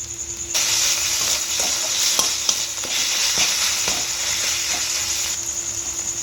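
Spice paste for doi katla, a Bengali curd-based katla fish curry, sizzles steadily as it is stir-fried in oil in a pan, with a dense hiss broken by scraping strokes of the spatula and no talking.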